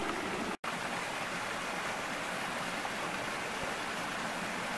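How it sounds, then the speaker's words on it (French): A small woodland stream runs over stones, a steady, close, full rushing of water that fills the clip without pause, with no voices over it. "je suis en plein milieu du ruisseau, je suis sur des pierres"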